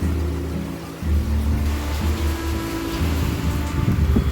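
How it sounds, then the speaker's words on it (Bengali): Heavy rain falls outside a kitchen window, a constant dense hiss over a low rumble, loud and unbroken throughout. "যা বৃষ্টি হচ্ছে জানলা তো খুলেই রাখা যাবে না"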